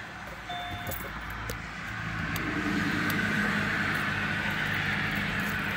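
Road traffic hums steadily in the background, a low continuous rumble that swells slightly as a car passes, with faint clinks and ticks on top.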